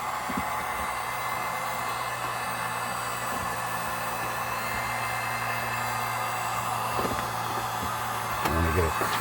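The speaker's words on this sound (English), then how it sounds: "I'm heating it up with a heat gun" A heat gun blows steadily on the ignition coil of a 2010 Subaru Forester 2.5 with a cold crank no-start fault, giving a close, even whooshing roar that lasts the whole stretch.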